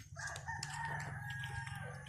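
A rooster crows close by in a short, loud call with a harsh, sustained tone over low background rumble.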